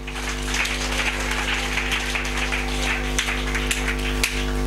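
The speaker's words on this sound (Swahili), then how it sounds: "Pigia Bwana makofi" Congregation clapping for the Lord during a church service, a steady wash of many hands under a constant low hum, with a few sharper claps standing out.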